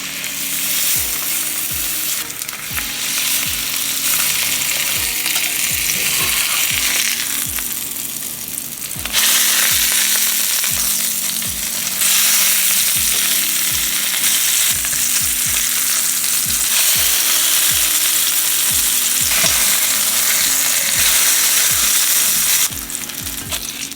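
Salmon searing in a hot pan, a loud continuous sizzle with repeated scraping and stirring strokes in an uneven rhythm, the frying swelling louder in stretches, with no voices.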